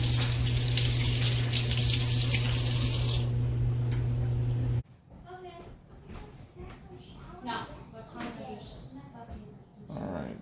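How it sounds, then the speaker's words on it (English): Tap water runs steadily into a kitchen sink as food is rinsed, a loud continuous hiss that cuts off abruptly partway through, followed by quieter kitchen handling sounds and a person talking. "Alright, so let's rinse them off."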